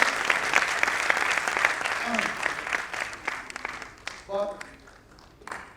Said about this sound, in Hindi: आप लोग ताली बड़ी बजा सकते हो?